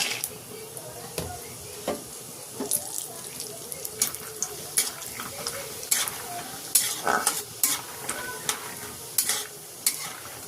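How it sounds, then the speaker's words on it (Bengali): Peanuts frying in hot oil in a wok, giving a steady close sizzle broken by sharp scrapes and clicks as the spoon stirs them through the oil. "তেলটা গরম হয়ে গেছে, চিনেবাদামটা ভেজে নিচ্ছি।"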